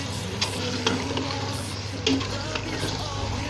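Chicken, about one kilo, fries in masala for achaar gosht while being stirred, giving a steady close sizzle with occasional scraping stir strokes throughout.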